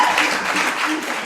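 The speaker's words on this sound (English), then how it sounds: "give a round of applause" Audience at a college campus country music showcase applauding, a dense wash of clapping heard steadily throughout, moderately loud and somewhat distant, with no clear speech over it.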